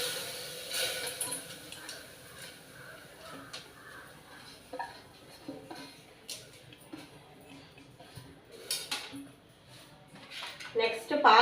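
Rinsed toor dal tipped into a pressure cooker while making palak dal, giving soft scattered clinks and scraping of metal cookware at close range, with a louder clatter near the end.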